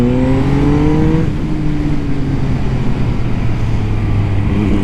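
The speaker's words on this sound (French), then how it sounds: "Vous avez un bruit qui sort de la boîte à air" A Benelli TNT 899 S motorcycle engine revs hard, its pitch climbing then settling into a throaty roar with a rough intake growl from the airbox, loud and close.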